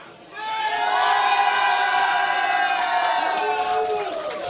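Crowd of spectators at The International 2013 Dota 2 tournament cheering for Na'Vi, a loud sustained roar of shouts and whoops that swells after a brief quiet start and holds throughout.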